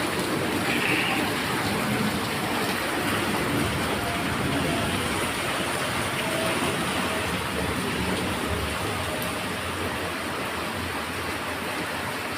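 Dirty floodwater pours and rushes inside the Bamail Ayesha mosque, a steady, dense wash of gushing water that holds unbroken throughout, with no voices over it.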